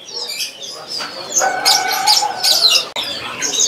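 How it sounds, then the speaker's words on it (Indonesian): Kapas sembak songbird, a large-bodied cared-for bird for sale at a kiosk in a bird market, calling with bright chirps and whistled phrases over a busy market background. "Nah ini ada namanya burung kapas sembak rawatan ya."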